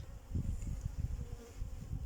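Dense, steady buzzing of many honeybees swarming close around a hive, a low continuous drone with a few louder passes.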